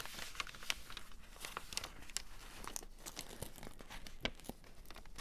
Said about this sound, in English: you're going to pull the grid off